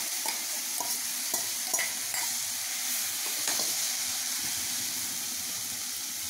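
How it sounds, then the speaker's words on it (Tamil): Banana stem and horse gram stir-fried in a pan, with a steady sizzle and repeated scraping strokes of a spoon stirring through the mix, close by and without talk. "இப்போ இந்த முதிரை இது போட்டுருவோம், காணப்பயிரை போட்டுருவோம்."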